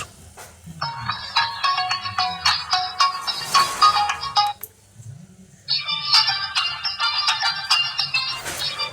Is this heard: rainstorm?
no